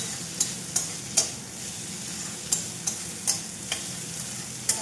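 Fish and water lily stalks fry in a pan under a low steady sizzle, punctuated by roughly ten sharp spoon taps and scrapes at an uneven rhythm, close and fairly quiet, with no talk.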